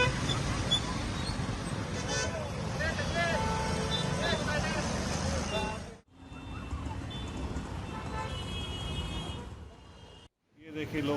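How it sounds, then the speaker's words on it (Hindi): A traffic jam in Bhiwandi, Thane, during non-stop heavy rain gives a dense wash of engine and road noise with repeated car horn toots, while a voice talks over it and the sound cuts out briefly twice. "ठाणे के भिवंडी में नॉन स्टॉप बारिश के चलते ट्रैफिक जाम लगने लगा।"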